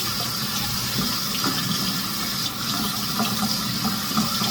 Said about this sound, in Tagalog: Hugasan muna natin ito bago natin ilagay sa ating bunganga.